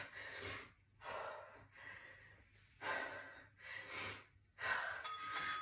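Deep, heavy breathing while resting after a Tabata workout, with about six slow, close, audible breaths alternating between inhales and exhales in an even rhythm.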